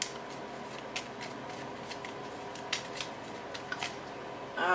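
Tarot cards shuffled and drawn in a quiet room, soft flicking riffles and light card snaps over a faint steady background hum, no talk.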